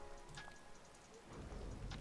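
Rain falls in Dreamlight Valley, a soft continuous patter of raindrops with faint distant rumble, quiet and steady throughout.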